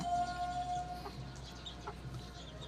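Rhode Island Red chicken giving a few soft, brief clucks, faint and close against a quiet hum, no talk.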